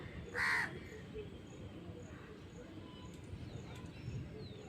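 A crow gives one loud caw near the start, then faint outdoor background noise carries on with a few soft distant bird calls.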